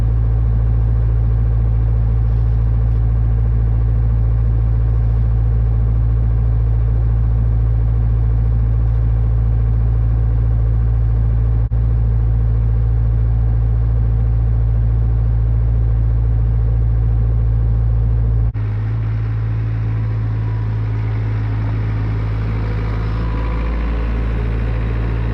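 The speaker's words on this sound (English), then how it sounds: "Got that bale grinding right now." Feed mixer grinding a bale of alfalfa on a dairy farm, a steady low mechanical drone with a strong hum throughout that shifts to a rougher, slightly lower tone near the end, with no talking.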